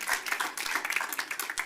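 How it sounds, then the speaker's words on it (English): A school board meeting audience applauds steadily, a dense patter of many hands clapping at moderate distance with no voices over it. "So give her a round of applause."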